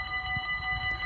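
A train passes near the railway at Sint Joost in summer, a loud and close sustained rumble topped by steady high whining tones, with no talk over it.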